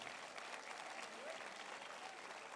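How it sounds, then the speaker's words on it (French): A crowd at a gala show applauds a band, a fairly faint, distant, continuous wash of clapping that holds steady throughout. "On peut l'applaudir très fort, s'il vous plaît."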